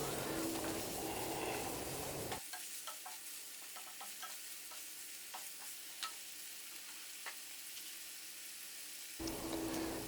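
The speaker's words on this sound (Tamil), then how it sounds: "ஒரு 2 நிமிஷம் எண்ணெயிலேயே வதக்கினதுக்கப்புறமா உப்பு, மிளகாத்தூள், தனியாத்தூள் இதை போட்டு அதே பரட்டிடுவோம்" Chicken frying in oil with salt, chilli powder and coriander powder, a steady close sizzle with a quieter stretch in the middle where scattered crackles and stirring clicks stand out, then the loud hiss returns.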